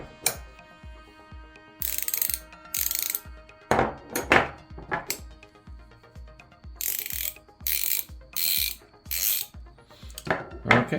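Craftsman V-Series metric ratcheting wrench clicks in rapid ticking bursts as it is swung back and forth, fine pawl clicks under louder scraping metal strokes, close up with no talking.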